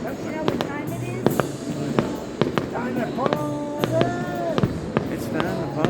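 A July fireworks display at Seven Springs Mountain Resort in Champion, Pennsylvania, with repeated sharp bangs and crackles at an irregular pace under continuous crowd chatter and nearby voices.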